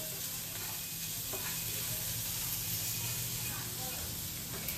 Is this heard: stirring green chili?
yes